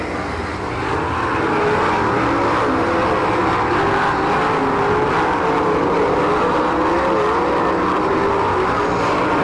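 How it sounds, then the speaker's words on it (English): Race cars on a dirt oval run side by side down the front stretch in an All Stars versus NCRA event, with a loud continuous engine roar that swells as they pass close by. "Drag race down the front stretch."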